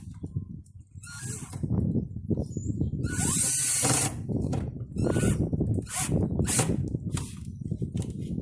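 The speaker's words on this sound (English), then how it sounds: "I'm gonna get my drill gun. Let's get it mounted to the wall." Cordless electric drill driving screws to fix a can crusher to a wall, several short whirring bursts between handling clatter, close and fairly loud, with one longer sustained run.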